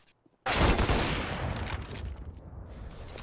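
A sudden close burst of automatic gunfire in the shooter game CS:GO, rapid overlapping shots fading into a brief ringing tail, with no voices over it.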